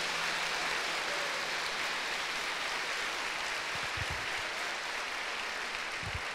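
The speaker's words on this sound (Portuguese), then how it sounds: "Aplauda o Senhor Jesus." Congregation at an evening Catholic prayer group meeting applauding, a steady broadband wash of many hands clapping at once that holds evenly throughout with no talk over it.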